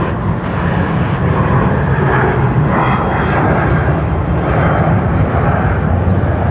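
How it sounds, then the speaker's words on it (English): A Saab turboprop at Sydney Airport, seen from the runway end under the approach path, passing with a loud, sustained engine drone that stays constant throughout, with no talk. "The Saabs don't learn to be quiet."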